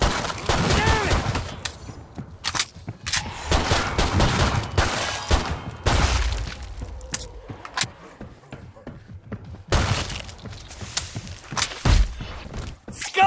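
Gunfire in Killing Floor 2 on Hell on Earth difficulty, playing as the Demolitionist: loud bursts of shots and heavy thumping explosions in rapid clusters, broken by short pauses.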